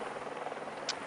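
A helicopter filming a Tour de France stage gives a faint, steady rotor buzz heard from a distance, with no talk over it.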